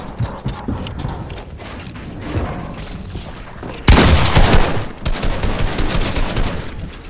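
Rapid bursts of gunfire in Fortnite crackle and rattle, growing louder and denser midway, with sharp repeated shots layered over one another.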